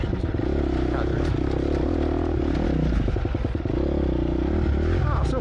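A 250cc motorcycle engine chugs along steadily on a club road ride, a continuous loud rumble mixed with wind buffeting and some clattering, heard from on board.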